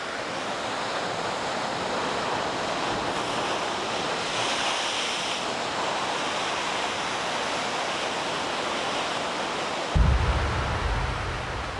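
Rough ocean surf crashes steadily along the rocky, cliff-lined coast of Christmas Island, a loud continuous roar of breaking waves with wind, swelling briefly near the end, no voices.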